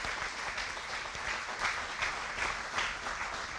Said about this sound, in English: I think that's worth applauding,